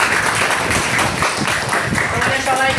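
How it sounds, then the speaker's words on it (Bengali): Classroom applause as students clap together during an ICT simulation class, a steady dense patter of many hands sustained throughout at fairly close range, with a voice mixed in. "ওদের জন্য একটা হাততালি দিই আমরা।"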